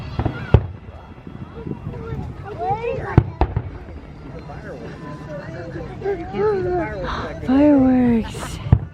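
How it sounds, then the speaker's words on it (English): Distant fireworks bursting over Indian Lake in early July, several sharp cracks and thuds at irregular intervals while people chat and exclaim close by. "Can you just watch the fireworks?"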